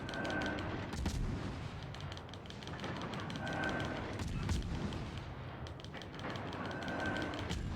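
Naval cannon fire from World of Warships Legends booms through a dense, steady wash of battle noise, with repeated heavy blasts spaced across the stretch and faint speech in the mix.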